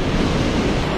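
Ocean surf at a coastal fishing spot with weak waves: a loud, continuous wash of breaking water and rushing noise, with wind buffeting the microphone.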